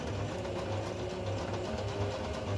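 A sewing machine stitches steadily in a quiet home setting, a soft continuous mechanical whir with a faint pulsing rhythm, fairly quiet and heard alone without any talking.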